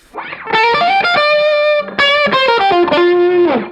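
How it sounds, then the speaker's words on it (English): Electric guitar through a JAM Pedals Double Dreamer dual overdrive pedal playing a mid-forward distorted lead line, sustained notes with gritty harmonics and a brief pause midway, loud and upfront, no talking. "So you get a more mid-forward lead sound, this distortion sound"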